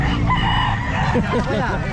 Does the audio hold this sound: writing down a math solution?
no